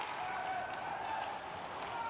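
An ice hockey crowd at a Lukko Rauma versus Genève-Servette semi-final cheers the end of the first period, a steady, distant roar of arena noise with a commentator's voice over it.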